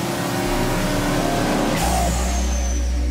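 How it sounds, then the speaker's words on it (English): Ford EcoBoost engine running at full throttle on a test stand, a loud sustained roar with a steady low drone that deepens and shifts partway through. "The engine fatigue test runs the engine for over an hour at full throttle"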